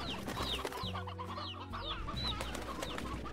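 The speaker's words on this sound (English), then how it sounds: "Oh, lots of hens here." A Slime Rancher farm flock of hens and chicks: high chick peeps repeat every half second or so above low hen clucks and an ongoing game soundtrack.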